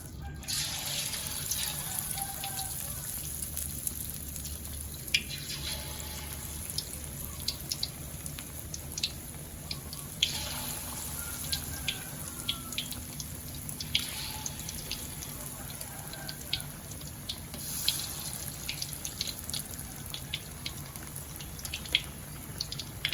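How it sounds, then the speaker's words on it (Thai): Chicken pieces fry in hot oil in a pan for a home-style fried chicken dish, giving a steady close sizzle with dense popping and crackling throughout. "พอน้ำมันเริ่มร้อนแล้วนะครับ เราก็ใส่ตัวไก่ลงไปเลยครับ"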